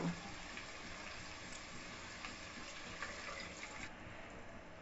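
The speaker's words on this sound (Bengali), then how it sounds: "এখন আমি এখানে 1/2 কাপ পরিমাণ পানি দিয়ে দিব।" Half a cup of water poured into a pan of noodles with fried chicken and prawns, a faint continuous splashing gush from start to finish.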